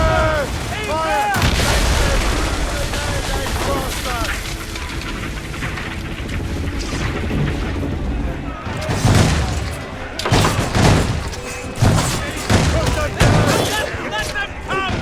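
Musket and cannon fire in an ambush in Assassin's Creed Rogue: a dense, steady wall of crackling shots and booms runs throughout, with heavier bursts near the end, while voices shout over it.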